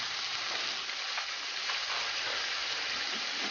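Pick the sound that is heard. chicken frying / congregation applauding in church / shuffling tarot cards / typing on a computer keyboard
chicken frying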